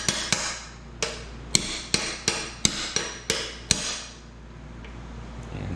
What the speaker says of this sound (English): I took a hammer with a little screwdriver that has a hex on it.